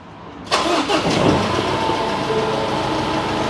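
A high-mileage car with clogged injectors and a faulty pressure-holding valve cranks and catches, then settles into a steady, slightly rough idle, loud and close, with no talk.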